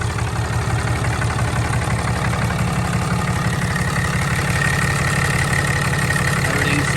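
A Ram Cummins 6.7 diesel, fourth generation, idles steadily with a low rumbling clatter, close and even for the whole stretch with no voices.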